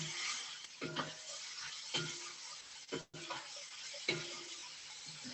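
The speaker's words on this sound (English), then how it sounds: "And then I've got my chickpeas. Dump those in. I'm gonna fry those up." Chickpeas frying in a pot as soup is made, a steady close sizzle with a few louder scrapes and clanks of stirring spread through it. No talking.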